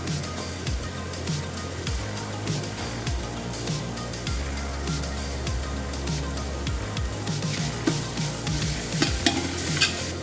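Ginger garlic paste going into onions frying in oil for Dhakai ilish pulao: constant loud sizzling with repeated stirring scrapes of a spatula in the pan, close and unbroken, no voices.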